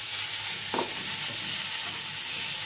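A spatula stirs vegetable curry in a hot pan, a soft sizzle running steadily beneath one brief scraping stroke near the start, with no talking.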